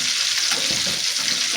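Sliced sweet potato chips fry in hot oil with a steady, dense sizzle and bubbling hiss while being stirred, loud and close with no talking.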